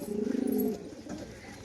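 A Rampuri pigeon coos close by, one throaty pulsing call that rises and holds briefly before trailing into softer rustling, with no voices.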